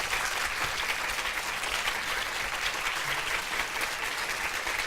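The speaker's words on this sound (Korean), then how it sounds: "여러분 모두 기립하셔서 뜨거운 박수로" A standing church congregation gives a guest a long, loud round of applause during a Sunday service at a Korean Baptist church, dense and steady clapping from a crowd throughout with no voices standing out.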